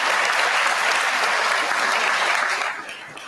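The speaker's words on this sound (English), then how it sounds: "They just applaud like a bunch of seals." An Oxford debate audience applauding steadily, a dense full-room clapping that holds loud throughout and eases slightly near the end, with no voices over it.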